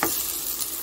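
Onion pieces frying with chana dal in oil while being stirred, a steady hissing sizzle with a small scrape at the start, close-up and alone.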